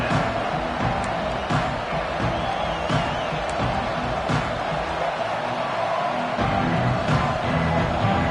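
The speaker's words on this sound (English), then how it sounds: "This crowd ready to make its presence known." A packed stadium crowd at a college football game in NCAA 26 keeps up a steady, dense roar with faint scattered shouts and whoops, unbroken throughout.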